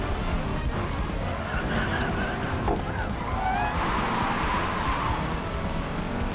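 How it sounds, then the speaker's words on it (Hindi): Car drifting in the Racing Master mobile racing game, likely a Bugatti Chiron, with a continuous engine roar and drawn-out tire squeals sliding in pitch over a steady, dense road noise. "देख रहे हो मेरी ड्रिफ्ट"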